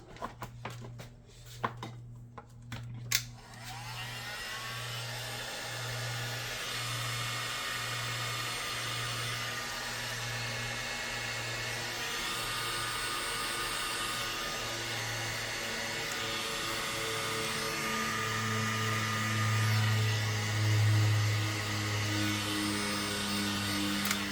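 A heat gun blows a steady, loud airflow hum that runs nearly unbroken for over twenty seconds while heat shrink tubing is shrunk over wires during a repair of a Kaleidoscope KServer-1500, with a few clicks and handling knocks near the start.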